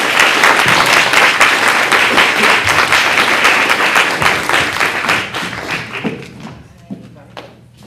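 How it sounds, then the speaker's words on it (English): An audience at a talk event applauds loudly with dense, steady clapping and a few cheers, then the applause fades out toward the end. "let's give it up for Sam"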